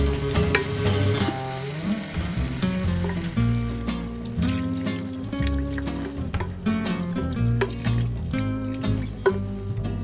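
Onion and courgette fry in a pot on the stove, a continuous loud sizzle with stirring clatter and a few clinks. Music plays alongside the cooking noise and nobody speaks.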